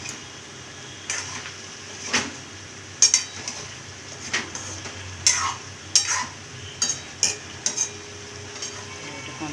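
A spoon stirs a jackfruit and potato dish with ghee in a pan, making a series of distinct clinking scrapes and taps at an uneven rhythm over a faint background sizzle.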